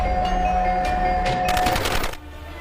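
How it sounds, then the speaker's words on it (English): A six-barrel 30 mm rotary cannon on an air-defence system fires rapid bursts at close range as a loud continuous mechanical roar, then stops abruptly. "automatic rotary cannon capable of finding and destroying any target at a distance of 5 kilometers"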